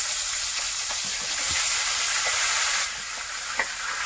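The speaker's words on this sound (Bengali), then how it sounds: "এবারে দেব পেঁয়াজ কুচি" Chopped onion hits hot oil in a wok and fries with a loud, continuous sizzling hiss that swells briefly and then settles, with faint stirring knocks underneath.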